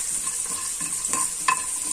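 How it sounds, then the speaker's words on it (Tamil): Whole spices dry-roasting in a pan without oil, giving a soft, steady rustle and light scraping as they are stirred, with a faint sizzle beneath a constant hiss. "இப்போ வந்து இதெல்லாம் போட்டு நல்லா நம்ம வெறுமே எண்ணெய் இல்லாமல் வறுத்துக்கலாம்"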